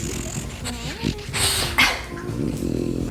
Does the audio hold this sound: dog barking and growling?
yes